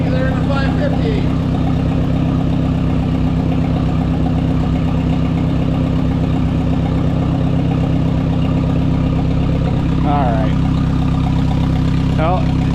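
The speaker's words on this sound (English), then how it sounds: "Let's see how well she idles down." Car engine idling steadily after a cold start, with a slight valve cover oil leak: a loud, constant low drone close by, with a brief faint chirp or squeak toward the end.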